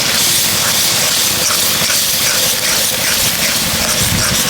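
Spiced masala with tomato paste fries in a pan for a prawn dish, giving a loud, continuous, hissing sizzle that holds steady with no voices.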